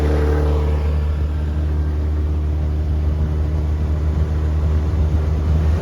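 A Mercury 9.9 outboard motor on a boat with a jack plate runs at full throttle, a loud, steady, close drone with a strong low hum and no breaks throughout.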